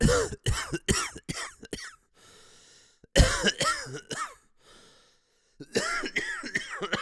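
A person coughs hard in several rapid fits, with short pauses between bursts and some throat clearing.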